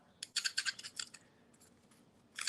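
Black spots scraped off old worn white enamel with a tool, a quick run of rhythmic scratchy strokes, a pause with a couple of faint scrapes, then another stroke, close and crisp.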